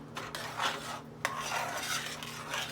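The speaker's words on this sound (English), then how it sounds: "I'm just adding the milk little by little, and the continuous stirring is what makes your beans" Bacon refried beans stirred in a pan as milk goes in little by little, a spoon scraping and swishing through the thick mash in repeated close strokes, with a faint low hum beneath.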